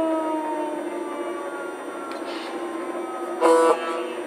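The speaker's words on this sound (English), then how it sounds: "that's my favorite, the siren" A steady, wavering siren tone from a Lionel Legacy model turbine locomotive drones on over a mechanical hum, with a short louder burst near the end.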